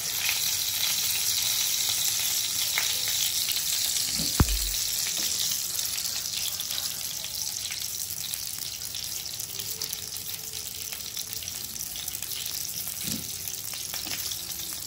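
Dynamite beef rolls fry in hot oil with a continuous, even sizzle lasting the whole stretch, broken by one sharp knock and a few faint clinks of utensils.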